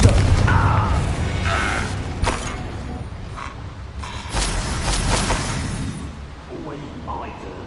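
A Confringo explosive spell blast in Hogwarts Legacy bursts out amid dense game combat noise, with several booming, creaking impacts spread across the clip and voices talking over the fight.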